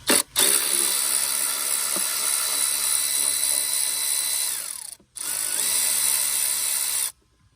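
A power ratchet whirs steadily on a 10mm bolt on a 2007–2011 Kia/Hyundai 2.0 engine during timing component work, two long close runs broken by a brief pause.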